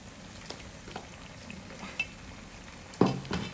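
Vegetable fritters (bakwan, cucur sayur) frying in oil, a quiet continuous sizzle with occasional scraping and clinks of a spoon against the pan, the loudest scrape near the end.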